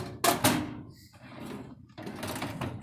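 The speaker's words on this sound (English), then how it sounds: "Got drawers to slide in and out." Drawers on a health department medical exam table slide in and out in two loud bursts with rumbling runs between them, heard up close.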